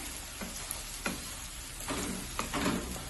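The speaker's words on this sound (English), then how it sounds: "use your wooden spoon and saute that real good" Food sautéing in oil in a pan during home cooking in Ghana, with a soft continuous sizzle broken by several scraping strokes of a wooden spoon stirring, close and fairly quiet, with no talk.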